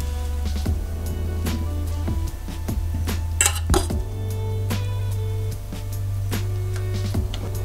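A metal cooking pot is closed with its lid. Sharp clanks and clinks ring out close up, with one bright cluster of metallic scraping in the middle, over a steady low hum.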